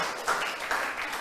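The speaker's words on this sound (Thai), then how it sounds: "ปรบมือให้เพื่อนทั้งหมดก่อน" A classroom of students clapping together for their classmates, a dense, steady patter of many hands at moderate volume lasting just over a second, with no talking.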